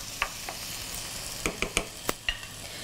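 Eggplants fry in a pan with a steady sizzle while a utensil stirs them, scraping and tapping in several sharp, close knocks.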